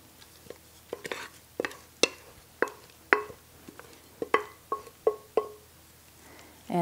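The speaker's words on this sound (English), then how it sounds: "And then we are going to dump in our oatmeal mixture." Thick oatmeal mixture for cherry almond baked oatmeal is tipped and scraped into a baking dish, giving a series of soft wet plops and spoon scrapes at an irregular rhythm, close and fairly quiet.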